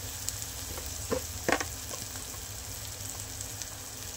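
Turmeric and spices sizzle in a pan for hotel-style dal tadka, a steady close frying hiss with a few brief stirring clatters and no talk.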